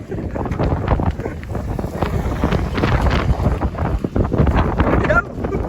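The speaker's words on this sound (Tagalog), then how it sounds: "Lakas ang hangin." Strong wind buffets the microphone in continuous rough gusts, loud and close, drowning out other sounds.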